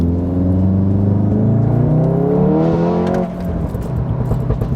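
A car engine roars as it accelerates hard, pitch climbing steadily through the revs, then drops off as the gear shifts and the engine settles.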